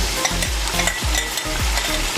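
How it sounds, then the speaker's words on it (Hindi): Ginger garlic paste stirred into onions frying in a pan for a ridge gourd curry, with a steady close sizzle and several scraping stirs of a spoon at a regular pace, no voices. "अदरक लहसुन का पेस्ट शामिल करके थोड़ा सा मिलाएंगे।"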